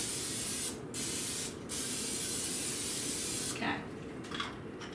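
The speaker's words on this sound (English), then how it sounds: "you're gonna spray the inside of your crock pot with a non-stick spray" Hissing bursts of non-stick cooking spray sprayed into a crock pot come in three presses, close and loud, with a brief spoken word near the end.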